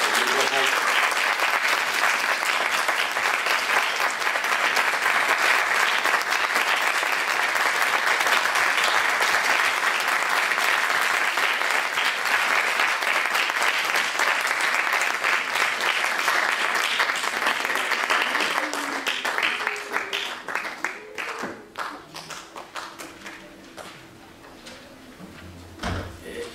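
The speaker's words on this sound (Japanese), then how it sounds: "もう一度盛大な拍手をお送りください。" A Christmas concert audience gives loud, sustained applause that holds steady for about twenty seconds before thinning into scattered claps and dying away.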